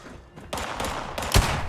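Gunfire in the video game Fallout 76: a burst of several sharp shots in quick succession, moderately loud, ending in a heavier thud, with no talking over it.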